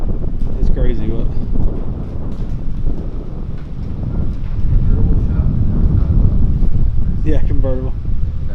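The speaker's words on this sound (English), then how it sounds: "Trying to get the wind where it can be in the mic." Gusty wind buffets a microphone outdoors beside a garage, a steady low rumble swelling louder through the second half, with voices talking intermittently over it.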